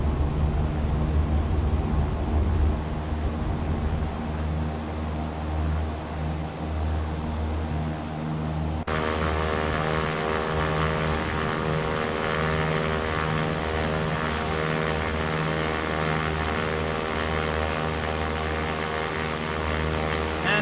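Small propeller airplane, tail number November 172 Sierra Papa, climbing after clearing the runway, a steady loud droning engine hum throughout with a shift in tone partway through.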